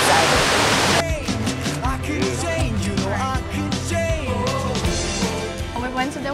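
A waterfall roars loudly as steady broadband rushing water for about one second, then cuts abruptly to music.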